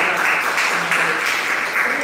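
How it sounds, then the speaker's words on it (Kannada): An audience at a spoken religious discourse claps for an elderly mother, a dense, steady patter of many hands at moderate loudness, with a faint voice beneath it. "ಆ ತಾಯಿ ಒಂದು ಚಪ್ಪಾಳೆ ಹಾಕಿ"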